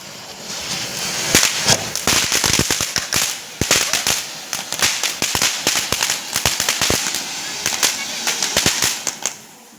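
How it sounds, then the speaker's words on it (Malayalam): Firecrackers bursting outdoors at a festival fireworks display, a rapid irregular string of sharp loud cracks and pops, some in quick clusters, continuing steadily with a faint voice occasionally beneath. "ഇനി നമുക്ക് നേരെ ചടക്കം പൊട്ടിക്കാൻ പോകും"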